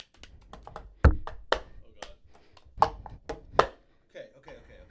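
Quick rhythmic slaps and thuds of cups on a tabletop, a fast patterned sequence of sharp hits mixed with lighter taps, close by.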